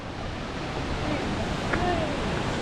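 Roaring rush of El Chiflon waterfall pouring down at close range, a steady broadband wash of falling water that holds level and unbroken throughout.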